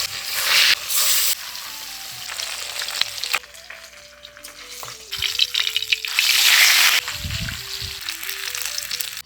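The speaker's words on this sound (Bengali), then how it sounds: "তেল গরম হয়ে গেছে, এখন মাছগুলো ছেড়ে দিচ্ছি।" Katla fish frying in hot mustard oil in a kadai, loud crackling sizzle that swells and fades in bursts, with metallic stirring clatter and a background tone running through.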